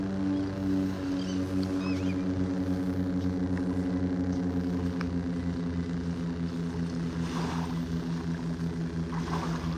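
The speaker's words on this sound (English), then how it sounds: "That's a loud plane." A loud, steady propeller-plane drone passing overhead at a beach in North Naples, Florida, with strong low harmonic hum, sustained throughout with no talking.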